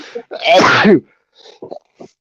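One loud, close sneeze, followed by a few brief, quiet vocal sounds.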